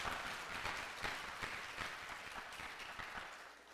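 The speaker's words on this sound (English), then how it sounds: "Please give yourselves a round of applause." Audience applause at a physician assistant program white coat ceremony, a dense steady wash of many hands clapping throughout, fairly even in level with no talk over it.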